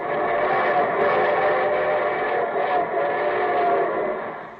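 A loud, steady train rumble sound effect from an old radio show, with whistle-like tones, carries on for several seconds, then eases off slightly at the end.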